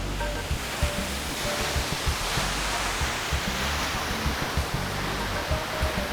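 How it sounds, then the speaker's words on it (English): A waterfall on a fast-flowing river pours with a steady, dense roar of rushing water that stays even and close throughout, with no voices. "I made it to the first waterfall."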